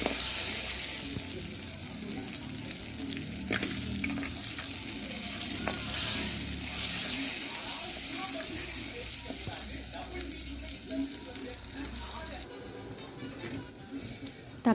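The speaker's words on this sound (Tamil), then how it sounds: "தக்காளி பச்சை வாசனை போகிறதுக்கு நல்லா வதக்கணும்" Ground tomato paste sautéing in a pan for an onion kara kuzhambu, a steady broadband sizzle with intermittent stirring scrapes running throughout at close range, no talk.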